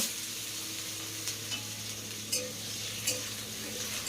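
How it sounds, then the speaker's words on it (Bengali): Pumpkin pieces fry quietly in hot oil, a soft continuous sizzle with a low hum beneath and a few faint clicks of a utensil against the pan. "কুমড়োটাকে এখন ভালো করে ভেজে নিতে হবে"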